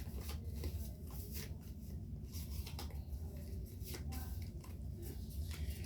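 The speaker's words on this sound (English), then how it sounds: "let me shuffle them." Trading cards from a freshly opened pack being shuffled by hand, a steady papery riffling and rubbing that runs continuously at close range with no talking.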